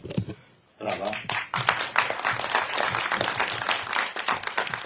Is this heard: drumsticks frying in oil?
no